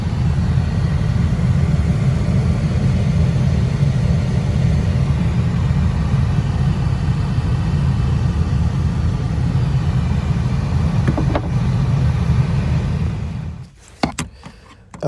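A replacement blower motor in a 2000-2004 Toyota Tacoma runs steadily with a loud, even broadband whoosh and low rumble, close up, for most of the stretch before it stops abruptly and a few knocks and clicks follow.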